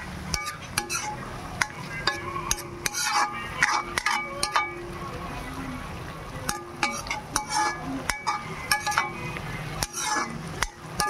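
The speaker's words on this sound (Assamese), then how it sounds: "ধুনীয়াকৈ অলপ মৰহাই পেলাই ভাজি ল'ব।" Chopped tomatoes fry in oil with panch phoron, a constant sizzle broken by frequent sharp clinks and scrapes of a spatula stirring against the pan, close and fairly loud.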